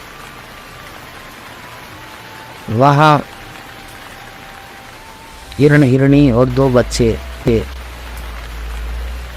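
Steady rain hisses as a soft, continuous wash throughout, staying in the background while a narrator tells a story in Hindi over it.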